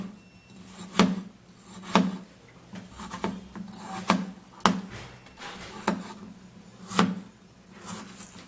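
A knife cuts through food on a board in a series of sharp, fairly close thuds, about one each second in an uneven rhythm, with no talk over them.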